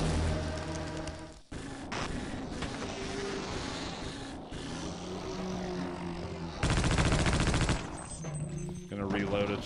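Rapid automatic machine gun fire in the game Half-Life: Opposing Force, loud dense bursts that stop briefly and start again, with a heavier sustained burst near the end and game effects between bursts.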